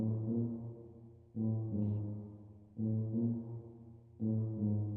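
A sustained brass chord from a brass sample in Logic music software swells in, holds and repeats in four long, loud phrases, with short gaps between them and no voices.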